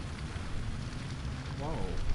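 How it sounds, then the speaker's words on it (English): Steady rain falls in the prison-building game Prison Architect, a continuous broadband hiss with a low rumble underneath, holding level throughout with a brief tonal chirp partway through. "And it is now raining."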